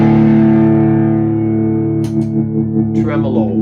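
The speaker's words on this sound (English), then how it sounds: "But right here, Tube Screamer," An electric guitar played through a Tube Screamer overdrive pedal sustains a thick, gritty chord that rings out loudly for about two seconds. A voice then talks over the fading tone.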